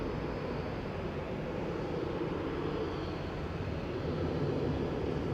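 A Ryanair Boeing 737 MAX 8, registration 9H-VUW, lined up on the runway at Manchester Airport in the evening for a flight to Porto, its engines giving a steady, continuous broadband roar heard from a distance.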